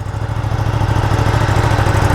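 Ducati Panigale V2 sport bike (2020) idling just after a cold start through a side-mounted exhaust, a steady loud low throb with a fast even pulse throughout, no voices.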